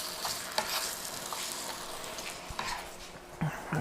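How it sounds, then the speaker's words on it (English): Apple mustard chicken with Granny Smith apples tossed in a sizzling pan: continuous close frying hiss broken by several sharp clattering stirs and knocks, with no voices. "once I toss it all up and get it all combined together"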